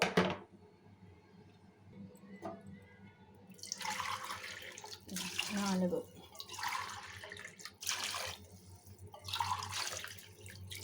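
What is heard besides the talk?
water being poured by the glass into a pot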